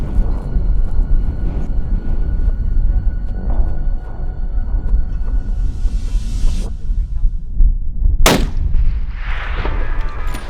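A rifle shot fired at a tahr during a backcountry New Zealand hunt cracks out loudly once amid steady wind noise, followed by a brief fading rumble.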